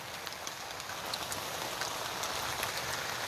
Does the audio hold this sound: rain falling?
yes